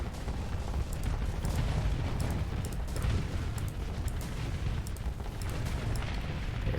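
Spaceship weapons firing and explosions in the space combat game Starsector, a dense, continuous barrage of booming blasts and sharp crackling bursts layered over a steady roar, loud and close throughout.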